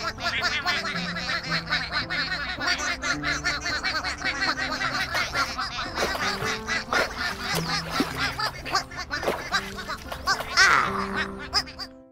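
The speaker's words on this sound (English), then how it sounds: "Big Blue made sure that all 12 ducklings found the pond." Ducklings quacking in a kids' counting app game, a busy run of bright, repeated quacks and squeaky calls over a light melodic backing, cheerful and continuous.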